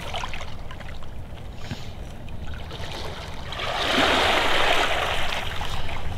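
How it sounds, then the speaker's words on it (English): Lake Superior water washing and lapping along the shore, a steady low wash that swells louder and fuller in the second half, with no talk over it. "I do have the water in the background."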